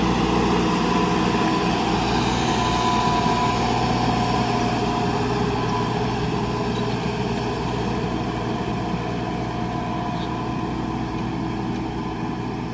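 A New Holland Workmaster 105 4x4 tractor with a 106 HP engine runs steadily, its smooth continuous engine and turbo hum holding an even, loud drone throughout with no talking.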